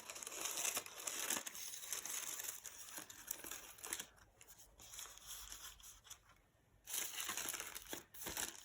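Scissors snip and crunch through sheets of painted tissue paper, cutting out circles in close, crinkly bursts that pause briefly before resuming.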